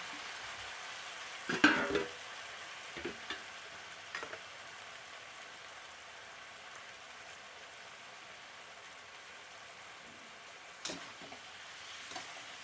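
A marinated whole fish and vegetables go into hot oil together and fry with a steady, quiet sizzle, punctuated by a few louder clatters and splashes near the start and again toward the end.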